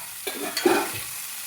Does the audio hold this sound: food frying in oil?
yes